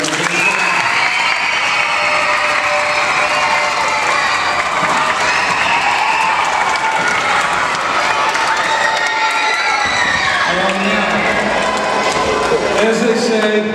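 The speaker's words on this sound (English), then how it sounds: "let's give all of our teachers a round of applause" A school assembly crowd applauds its teachers, loud sustained clapping mixed with cheering and children's shouts filling the whole stretch, with voices rising through it.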